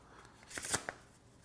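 A deck of playing cards riffled briefly in a false shuffle, a quick soft burst of card flutter followed by a single crisp snap, close and alone.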